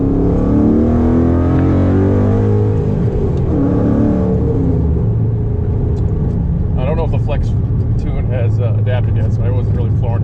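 A Coyote-swapped 2007 Ford Mustang GT with a manual gearbox and 4.10 gears pulls hard and loud in the first half, its V8 note rising in pitch, then eases off into a lower rumble while someone talks over it.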